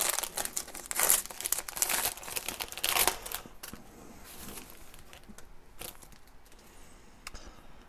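A 1984 Topps Super Baseball card pack wrapper crinkles and tears open up close, with loud crackling bursts early that taper into softer rustling and a few scattered crinkles.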